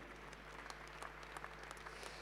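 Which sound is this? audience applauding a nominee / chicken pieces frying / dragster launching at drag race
audience applauding a nominee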